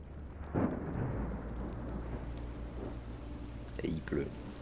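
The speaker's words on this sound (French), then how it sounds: "Et il pleut." Steady rainfall hisses throughout with low rumbling thunder beneath, a few brief voice-like bursts breaking through near the start and end, in Minecraft: Story Mode.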